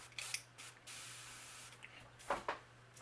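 An airbrush hisses in short bursts, spraying golden paint onto a bluegill crankbait fishing lure, with several brief sprays and quiet pauses between them, faint and close.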